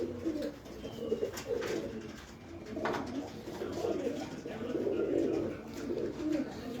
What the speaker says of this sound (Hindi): ये है जी प्रिंस का मगर कबूतर।